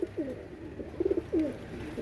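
Golden pigeons at a pigeon market coo in soft, repeated throaty bursts, close and fairly quiet, with a faint background hum and no talk.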